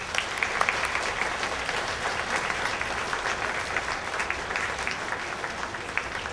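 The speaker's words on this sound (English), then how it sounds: "Students, please show your appreciation with a hearty round of applause" Students at a grammar school promotion ceremony applaud in a sustained, even round of clapping that fills the room, steady for several seconds with no talk over it.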